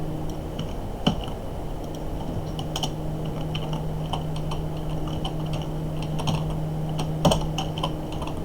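Steady typing of shader code on a computer keyboard, a quick, irregular patter of key clicks with a few sharper strikes, close and clear over a faint electrical hum.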